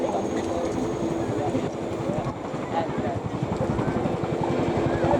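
An RAF military helicopter manoeuvres forward and down at the Cosford airshow, a loud continuous rotor thud with rhythmic chopping and wind buffeting, with an announcer's amplified voice over it.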